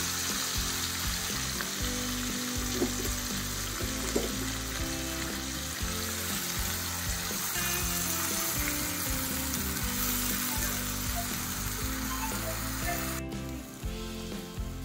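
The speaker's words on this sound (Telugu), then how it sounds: "ఇప్పుడు ఉల్లిపాయ పేస్ట్ నలిగిపోయింది కదా, వేగిపోయింది కదా." Onion paste frying in a pan for a pomfret fish curry, a steady, fairly quiet sizzle with faint stirring scrapes throughout and no talking.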